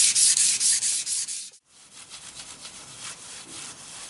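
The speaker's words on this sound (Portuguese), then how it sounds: "dei agora uma passadinha de papel nele todo" Sandpaper rubbing along a wooden guitar neck with a thin sealer finish, rapid rasping back-and-forth strokes up close, a brief pause midway, then softer continued sanding.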